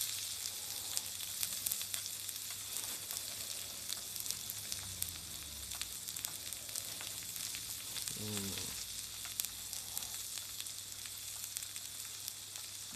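Frozen shiso-flavoured chicken cartilage meatball skewers sizzle on a hot plate, a steady soft frying hiss running the whole time with a brief stirring or moving sound midway, no talking.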